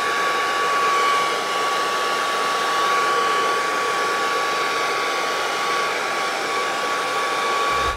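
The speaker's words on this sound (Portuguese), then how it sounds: "Você vai ligar o secador e vai ficar passando ele na chuteira enquanto você fica fazendo alguns movimentos com o pé." A hair dryer blows steadily on a new football boot to soften it, a loud, even whooshing roar that runs unbroken alone throughout.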